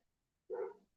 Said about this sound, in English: That's my hound dog, if you guys happen to hear that.